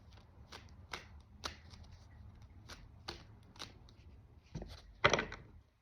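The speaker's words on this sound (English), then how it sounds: "Two shuffles, please." Cards riffle and snap in a series of quick shuffles, close and crisp, with a louder riffle near the end.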